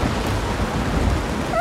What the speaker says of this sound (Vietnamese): Ôi không, trời bỗng dưng đổ mưa to.